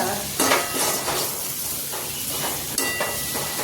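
Tempering spices for a curry sizzle and crackle loudly in hot oil in a pan, with a steady frying hiss and a few sharp bursts of spattering.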